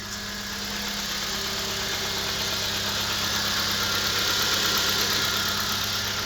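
A Nissan Sentra engine idling after an alternator replacement, with a steady, close mechanical hum and a faint high whine, holding at an even level and creeping slightly louder, with no voices over it.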